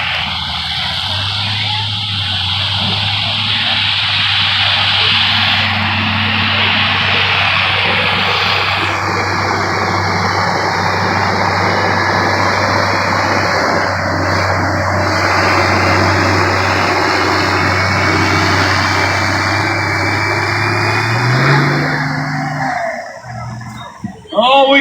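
A 2002 Chevrolet Duramax pulling truck runs at a truck and tractor pull with a loud, sustained engine roar and a steady low drone that climbs in pitch near the end before cutting off, with an announcer faintly beneath.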